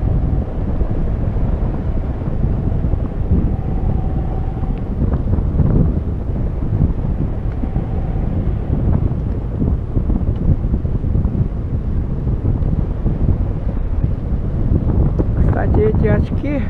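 Strong wind buffets the microphone with a constant low roar throughout during a bicycle ride over a mountain pass, and a voice briefly speaks over it.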